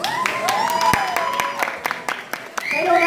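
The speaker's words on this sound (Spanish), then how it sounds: "¡Pero un aplauso por Dios!" Applause from an audience at a cosplay contest, scattered claps crackling through the crowd while voices call out loudly above them.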